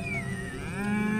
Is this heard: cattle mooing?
yes